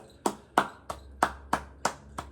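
Seven slow, evenly spaced hand claps, close and distinct with short decays, in quiet surroundings, given as applause for goalkeeper Hugo Souza.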